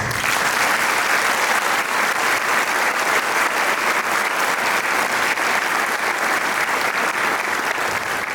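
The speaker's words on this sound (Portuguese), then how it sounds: "Palmas." An audience at a live book launch claps in sustained, dense applause, loud and even for the full stretch with no talking over it.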